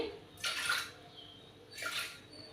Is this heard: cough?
no